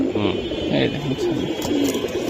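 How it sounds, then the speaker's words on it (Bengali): A Bezi pigeon, a racing breed, gives low, rolling coos that run steadily through a close, murmuring background of voices. "এটা বেজি কবুতর ভাই"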